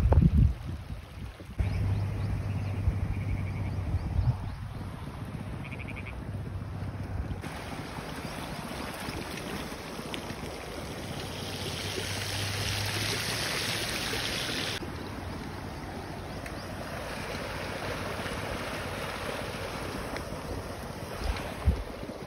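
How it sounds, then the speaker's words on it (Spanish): Floodwater from an overflowing river rushes through a street in Asunción Ocotlán, Oaxaca, a steady broad roar mixed with heavy wind buffeting on the microphone, with no talk. "Está llegando en estos momentos bastante agua."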